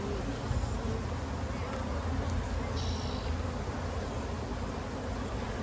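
Honeybees buzzing around frames of capped brood in a hive, a dense continuous drone, close and steady, with no talk.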